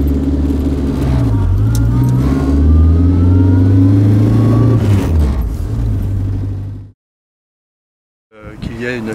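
Small rear-engined Renault 4CV car accelerating along a road in the Yvelines, its engine rising loud and close under occasional talk, then cutting to near silence before sound returns.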